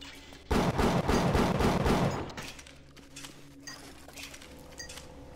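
Pistol fired in BioShock, a rapid run of loud close shots for about two seconds, then quieter clinks and scattered sounds without speech.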